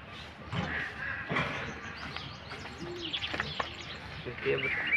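A Gulabi breeder pigeon coos in a few soft, throaty bursts, with other birds chirping faintly nearby and someone speaking over the calls.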